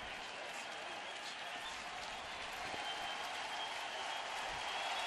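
A baseball crowd of nearly 20,000 at Progressive Field in Cleveland roars with a steady, broad wash of cheering and clapping, distant and continuous.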